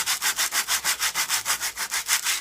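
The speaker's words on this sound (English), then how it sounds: "Scrape down this glitter here, so when I Mod Podge everything," A glittery Dollar Tree sign gets scraped in steady back-and-forth strokes, about six per second, close and fairly loud, with a bright rasping tone and no voices.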